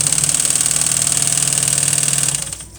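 A sewing machine motor runs steadily, driving a belt to wind a bobbin at high speed, a loud, even whir with a high whine that holds for a few seconds, then slows and fades at the end.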